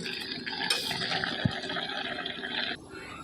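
Water splashes into a hot cooking pan, a continuous liquid pouring and sizzling sound with one sharp knock near the middle, loud and close, with no voices.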